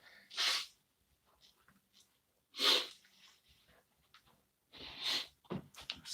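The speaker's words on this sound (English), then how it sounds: "hold on, blow my nose" Three forceful bursts of nose blowing, evenly spaced, each a sharp loud rush of air, with quieter snuffles and breaths in between.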